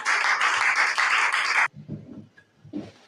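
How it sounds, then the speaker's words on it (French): A church congregation breaks into loud, dense applause after a closing prayer, sustained for about a second and a half before cutting off abruptly, leaving a few faint murmurs and a short voice. "Applaudissez le Seigneur."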